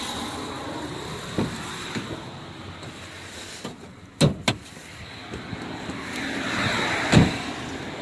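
Hood of a 2004 Dodge Dakota Quad Cab AWD Sport with a 4.7-liter Magnum V8 being opened: a quiet stretch, then a pair of sharp, close metallic clunks from the latch, followed later by another thunk, with no talking.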